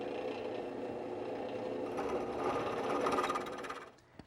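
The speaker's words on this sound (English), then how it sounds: "Now I have to enlarge the hole to 13/32 for the hardware that's going to go through them." A power drill bores out a hole in wood to 13/32 inch for hardware while building a deck chair, giving a steady, close, grinding whine for about four seconds that rises slightly before cutting off.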